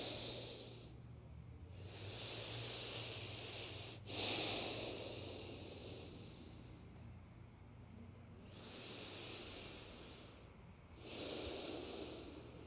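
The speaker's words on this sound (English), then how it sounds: "breathing here." Slow, deep breathing through the nose during a pregnancy yoga stretch, several long, hissy inhales and exhales in a calm, steady rhythm, close and quiet, with no talking.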